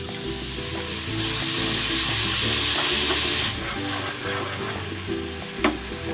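Butter, flour and chicken broth cooking together in a pan give a continuous sizzling hiss with light stirring scrapes. The sound is close and steady, swelling briefly partway through, with no talking.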